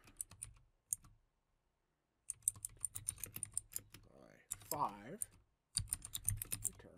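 Rapid clattering keystrokes on a computer keyboard during programming work, coming in quick bursts separated by short pauses, close and fairly crisp, with someone talking over parts of it.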